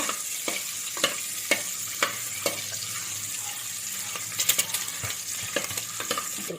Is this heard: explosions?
no